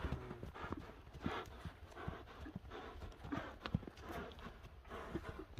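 A Karabair horse's hooves clop on the ground in a quick, uneven rhythm, close by and moderately faint, with some breathing and rustling underneath.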